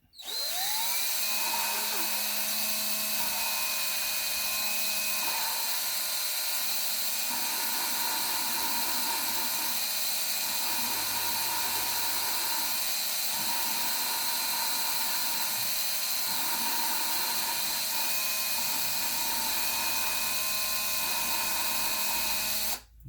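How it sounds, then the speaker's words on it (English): A power tool grinds a valve on a GM 2.4 Twin Cam engine, a continuous high-pitched whirring drone held steadily for over twenty seconds with faint tonal wavering, close and alone. "We're going to grind this for about a minute."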